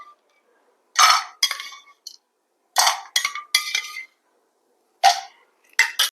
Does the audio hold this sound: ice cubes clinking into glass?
yes